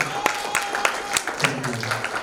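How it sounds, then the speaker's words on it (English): Scattered, fairly sparse hand claps from an audience at a youth summit session in Istanbul, applauding a presenting group, with a voice talking over them throughout. "please give applause for group 9"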